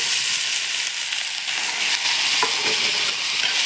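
Chopped pointed gourd and pumpkin fry in oil with panch phoron, turmeric, onion and chili, giving a loud, dense, continuous sizzle with a few stirring scrapes and no talk.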